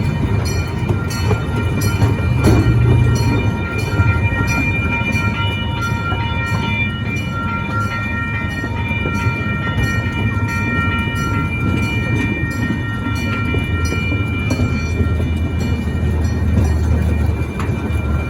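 The Santa Barbara Zoo passenger train runs along its track with a loud, continuous rumble and rhythmic clatter of the cars, carrying on steadily throughout.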